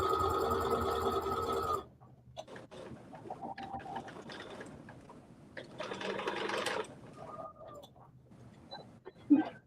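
A sewing machine runs a short, loud burst stitching a seam on a Vikisews Roxanne dress, then the room falls quieter with faint handling clicks and a second softer run of the machine.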